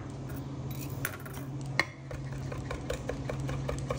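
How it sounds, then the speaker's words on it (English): A knife chops anchovy fillets on a cutting board into a fine chop, producing a steady series of light, quick taps over a low kitchen hum, close and without voices. "next we're gonna go ahead and chop up 4 anchovy fillets"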